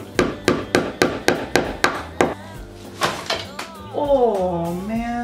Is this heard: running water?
no